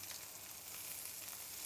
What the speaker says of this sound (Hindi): और पनीर के टुकड़े इस पैन में हल्के रूप से ग्रिल करते हैं।